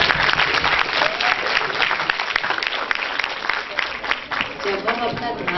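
Audience applause fills a spiritual talk on student-life challenges, steady dense clapping sustained and fairly loud throughout with a little crowd noise mixed in.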